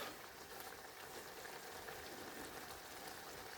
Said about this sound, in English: I'm going to put the heat up to full and until it starts bubbling away